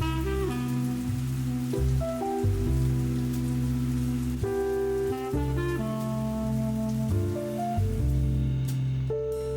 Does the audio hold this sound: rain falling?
yes